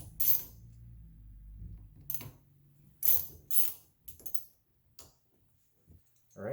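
Steering wheel bolts being loosened with a hand tool on an aftermarket wheel, giving a series of short metallic clicks and ratchet-like ticks in irregular bursts, close and fairly quiet, with brief pauses between.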